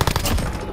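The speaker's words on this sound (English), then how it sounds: "Who the fuck is shooting at me?" Rapid automatic gunfire in a Call of Duty: Modern Warfare multiplayer match at Hackney Yard, a dense burst of close shots lasting under a second.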